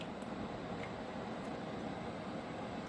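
Steady, even broadband hiss of a Kamino V2.5 evaporative humidifier fan running at its maximum setting, about 50 dB, constant and unbroken with no voices.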